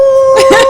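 A person imitating a dog, a short voiced bark-like howl lasting under a second with a steady tone running underneath, loud and close.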